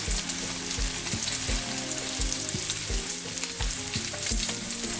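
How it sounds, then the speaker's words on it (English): Steady crackling sizzle of fish frying in hot oil in a frying pan, dense and continuous throughout, with faint low clinks of the pan underneath. "Our fish out of the frying pan now, looking lovely, nice and crispy."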